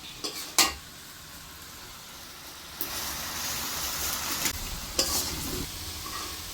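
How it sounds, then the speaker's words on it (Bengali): Mustard oil poured over prawns in a hot pan sets off a steady, close sizzle that builds after a couple of sharp metallic clanks, with stirring scrapes running through it. "এখন আমি এর উপরে একটু সরিষার তেল দিয়ে দেবো"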